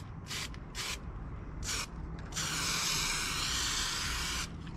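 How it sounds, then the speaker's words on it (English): Short bursts of aerosol spray paint hiss out onto car trim, followed by a long steady spray lasting a couple of seconds, close and fairly loud. "Get ready to spray this trim, probably do like 2 layers"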